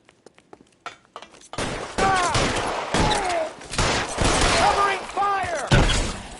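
A video-game shootout in L.A. Noire erupts after a few faint early pops into loud bursts of gunfire, with whistling ricochets, shattering glass and shouted voices over the shots.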